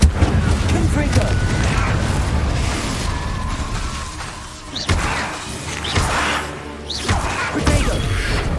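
Confringo blasting spell cast in Hogwarts Legacy, a rumbling burst and crash amid continuous game combat noise and music, with a brief whooshing flare later.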